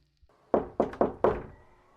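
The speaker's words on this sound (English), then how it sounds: "Then came 3 knocks." Three sharp, close knocks land on a closed bedroom door after a brief pause, followed by a fourth, each a hollow wooden rap in an otherwise quiet room.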